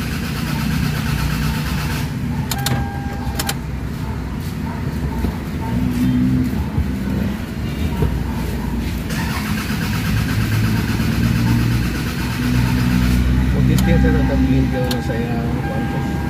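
A Toyota RAV4 cranking without starting, the starter turning the engine over in a steady mechanical churn with no catch, while someone talks over it.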